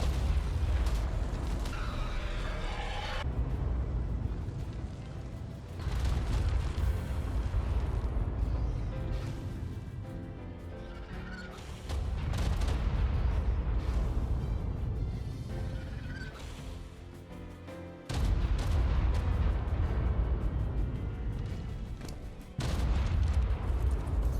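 Repeated heavy booms and blasts from tamed dinos exploding in the video game Ark Primal Chaos, a dense rumbling barrage with several loud bursts that sustain over a continuous low roar.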